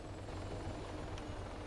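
A helicopter in the video game Arma 3 makes a steady, muffled rotor thrum, a continuous low chop at a moderate distance with no voices.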